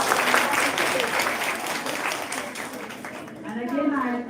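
An audience at Kamala College in Kolhapur applauds in steady, dense clapping that holds across the whole stretch, full and fairly close, then thins slightly toward the end while a voice starts to come in.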